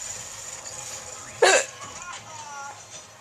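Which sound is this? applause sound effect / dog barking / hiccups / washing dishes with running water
hiccups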